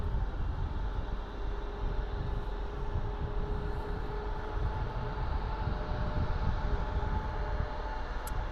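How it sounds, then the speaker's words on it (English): A WestJet Boeing 737 MAX 8 jet taking off from runway 23 at Toronto's airport, a steady loud broadband engine roar that holds constant throughout. "We have WestJet going to Calgary, 737 MAX 8."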